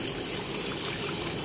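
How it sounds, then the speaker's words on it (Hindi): Water is poured into a large pot of korma cooking at a roadside spot in Rawalpindi, a steady splashing gush heard close and continuous, with no voices. "पानी डाल रहे हैं"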